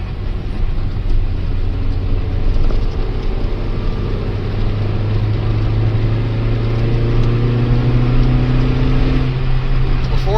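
A Ford Escort GT fitted with a Mazda 1.8 liter BP engine drives along backroads, its steady engine drone and road noise continuous and loud throughout, with the pitch rising gradually as it pulls through the gears.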